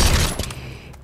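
A gunshot in the video game Rainbow Six Siege lands as a loud, close burst at the very start and then decays over about a second.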